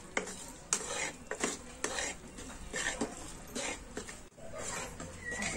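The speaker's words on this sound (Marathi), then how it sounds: "असं सारखं हलवायचं." A spoon scrapes and stirs a thick sesame brittle mixture in a pan, with steady, repeated scraping strokes and faint sizzling throughout.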